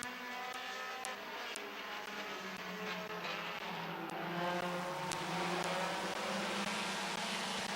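Race cars circle the Midvale Speedway during a fall classic event, a steady layered engine roar with a crowd-like wash and occasional sharp clicks, loud and continuous throughout.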